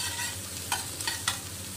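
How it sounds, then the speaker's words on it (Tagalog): Onions, garlic and dried prawns fry in a pan with a steady close sizzle, broken by a few brief scraping stirs. "Fry lang natin hanggang mag-golden brown yung ating onions and garlic"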